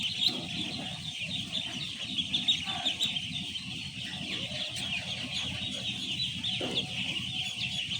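Four-day-old ducklings feeding on a farm, a steady chorus of high peeping and chirps close by, with soft pecking and shuffling sounds underneath and no talk.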